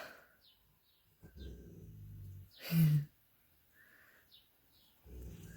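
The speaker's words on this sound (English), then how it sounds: "he's snoring, bless him." A sleeping pet snores softly nearby in a quiet room where acrylic nails are being done, with a few low, breathy snorts spaced across the moment and one louder snuffle in the middle.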